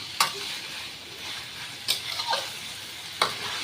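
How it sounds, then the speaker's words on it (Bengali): Soybean chunks sautéing in a pan, a low continuous sizzle with a few distinct spatula scrapes and stirs spaced apart, close by and fairly quiet, no voices. "একটুখানি কষিয়ে নিয়ে তারপর জলটা দিয়ে দেবো"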